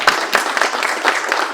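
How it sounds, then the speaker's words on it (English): Loud, dense applause from an audience for sponsors at a design contest competition, a close, continuous wash of claps lasting a moment. "please join me in a round of applause for all our sponsors one more time"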